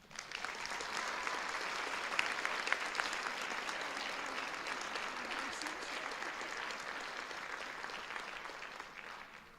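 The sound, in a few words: audience applause for new honor society members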